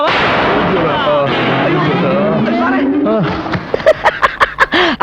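A rapid burst of about seven sharp gunshots rings out at close range, following loud, excited talk and shouting from several voices in a Malayalam comedy film scene.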